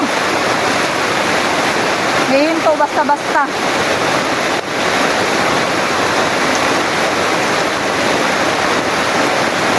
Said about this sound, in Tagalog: ang ulan po, perting lakas